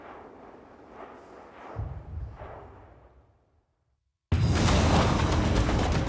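Distant volcanic eruption about 1.5 kilometres away, booming like cannon fire: a few low, muffled thuds rumble faintly, fade to near silence, then a sudden loud, broad roaring blast takes over.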